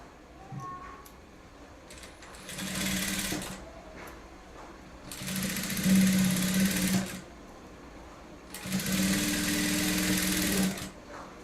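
A sewing machine stitches the folded sleeves of a saree blouse. Three bursts of whirring run, each lasting about two seconds, with quiet handling and faint talk in the pauses between them.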